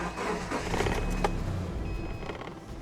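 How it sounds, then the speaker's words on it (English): A car engine cranks and catches on a cold day, started with an ANCEL BS200 battery super starter, making a fairly quiet, steady mechanical churn with no talking. "It will start the vehicle."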